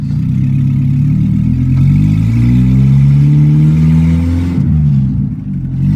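A Suzuki car fitted with a B18C Type R engine runs loud and close, its engine note rising and shifting in pitch as it moves through the gears, with a steady low rumble and light clatter and no talk.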